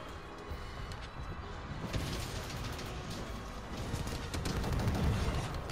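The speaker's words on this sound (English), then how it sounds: "there was some explosions there" Rapid gunfire and explosions crackle in a video game, a dense continuous barrage of bursts and booms holding steady and building slightly louder toward the end, with no talk over it.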